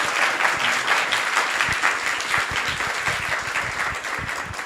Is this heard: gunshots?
no